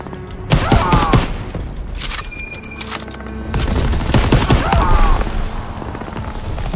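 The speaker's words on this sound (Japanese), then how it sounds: "誰か撃ってる。" Gunfire in the D-Day landing of Call of Duty WW2, loud bursts of rifle and machine gun shots mixed with thuds and battle noise, with a voice briefly heard amid the din.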